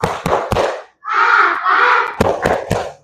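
A class of children claps in sharp rhythmic bursts and chants together loudly in unison in Indonesian, naming plant parts, close by, alternating claps with shouted chanting.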